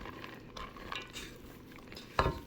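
A spatula folding chocolate chips into cookie dough in a bowl, giving soft scraping and stirring noises with a few light knocks and one sharper clatter near the end, fairly quiet and close.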